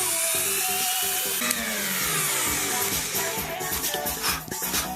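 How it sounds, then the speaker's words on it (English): A Dremel rotary tool cuts with a loud, steady high-pitched whine that shifts in pitch, running continuously throughout with no talking. "sometimes the Dremel will start to make this like kind of high-pitched noise when you're cutting"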